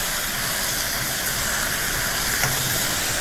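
Kimchi and pork stir-fry in a pot, giving a continuous loud, close hiss of sizzling that stays even throughout.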